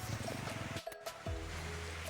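A waterfall and flowing stream in the morning near a home in rural Thailand give a steady, close rushing noise that drops out briefly in the middle.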